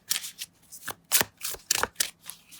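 Oracle deck cards being shuffled up close, several quick riffling bursts in an irregular rhythm, loud and crisp, with no voices.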